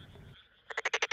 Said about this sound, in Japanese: 顔の左右にある泣くための袋を膨らませて泣いています